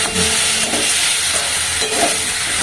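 Rohu fish curry with broccoli and potatoes sautés in a pan, giving a steady, close sizzle with stirring scrapes and no voices.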